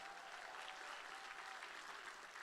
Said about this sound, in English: Can we get a big round of applause for those generous gifts?